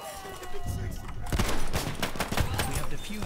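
Kolibri pistol firing in the game Battlefield 1, a quick run of small sharp shots in a chaotic burst amid other gunfire and battle noise, with a voice talking over it.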